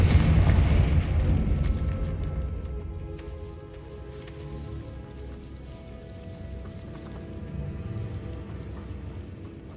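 A Confringo fire spell detonates in Hogwarts Legacy, opening with a loud, deep boom whose rumble fades over several seconds into a low, steady ambient hum with faint scattered clicks.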